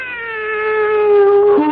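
A cat named Pluto gives one long, drawn-out meow that holds steady and rises slightly in loudness, ending in a short lower break; close and clear, with no talk.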